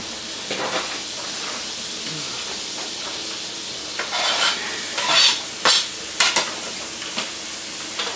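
Shallots fry in butter in a pan, making a steady close sizzle with occasional sharper crackles and faint clinks of a utensil.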